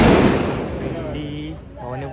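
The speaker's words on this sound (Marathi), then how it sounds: "भाऊ फटाके फोडतोय" Firecrackers set off at an outdoor family gathering with a crowd nearby burst in a loud, sharp blast at the start, then the echo fades under voices talking.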